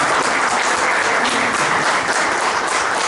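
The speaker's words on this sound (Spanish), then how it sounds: "yo les pido un aplauso para Miriam" Audience applause at a book presentation in Zapala, dense steady clapping from a crowd filling the room, loud and continuous throughout without any voices.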